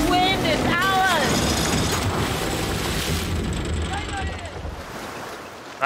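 Wind and waves rush steadily while a ship sails in a pirate video game, a loud broad wash of sea and wind noise, with voices speaking over parts of it.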